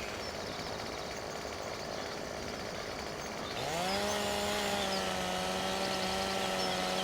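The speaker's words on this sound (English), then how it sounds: "all you have to do is cut the tree with a drill, a chainsaw" A chainsaw cutting a tree in Farming Simulator 2017, first a lower rough running tone, then revving up to a loud, steady high-pitched whine as it bites into the trunk.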